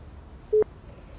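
A telephone line gives a short busy or engaged tone, steady beeps at a single pitch, with a click-like dialing burst between them, heard alone and fairly clear over a low background hiss.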